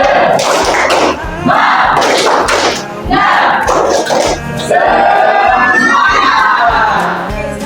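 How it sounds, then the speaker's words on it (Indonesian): A classroom of children doing a rhythmic spirit clap, loud bursts of clapping and thumping in patterned groups, mixed with shouted chanting voices, close and energetic. "Ya, tepuk semangat."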